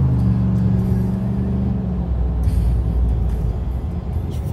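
A 2021 Chevy Trail Boss pickup with a 2-inch leveling kit drives along, giving a loud, steady engine and road rumble heard from inside the cab, with a low hum easing off midway.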